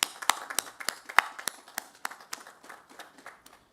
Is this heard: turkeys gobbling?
no